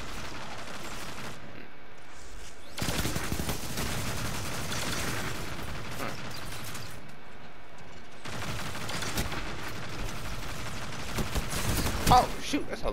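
Gunfire rattles in a video game, with bursts of rapid shots coming in two long stretches separated by a quieter gap, moderately loud and mixed with some talking.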